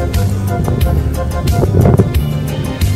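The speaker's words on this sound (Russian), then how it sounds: "Ветер, дождь, все прелести пустыни" Strong winter wind buffets the microphone on a desert bike trek, a loud continuous rumble with gusting bursts and rustling, no speech.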